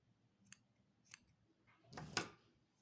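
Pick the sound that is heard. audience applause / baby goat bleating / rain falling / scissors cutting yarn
scissors cutting yarn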